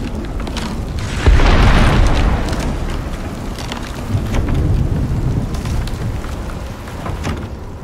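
A heavy thunder boom rolls in during a storm in the video game Icarus, followed by steady rain and a second lower rumble, loud and enveloping.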